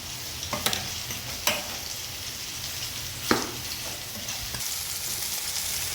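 Bitter gourd pieces (kakarakaya) frying in a pan give a steady soft sizzle, broken by a few sharp clicks of stirring against the pan, with no voices.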